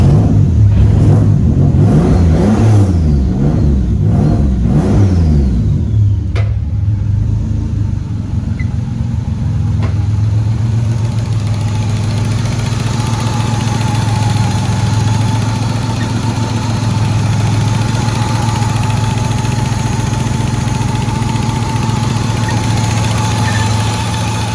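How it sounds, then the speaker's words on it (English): A rebuilt engine idles steadily and smoothly, a deep continuous hum with some uneven revving in the opening seconds before it settles into a constant even drone with no voices. "The engine is all together and this thing absolutely purrs."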